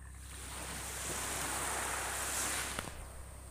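Surf rolling onto Oyama beach on a calm day, a steady broadband wash of waves with a slight swell in the middle and a faint knock near the end, no voices.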